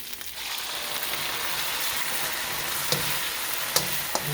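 Oyster sauce with dark and regular soy sauce hits a hot pan with chicken and onions, giving a steady bright sizzle with a few sharp pops and crackles and no voices.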